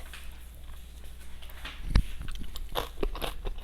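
Homemade Korean kimchi eaten with steamed rice gives a sharp crunchy bite, followed by a few softer crisp chewing crackles, close and alone without talk.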